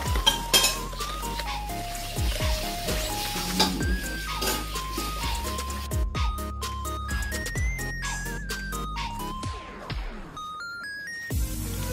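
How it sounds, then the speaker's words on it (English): Hot melted butter, oil and sugar whisked together in a medium-sized bowl for fudgy cocoa brownies, a whisk clinking and scraping rhythmically against the bowl, close and continuous without talk. "Combine hot melted butter, oil, and sugar together in a medium sized bowl. Whisk well for about a minute."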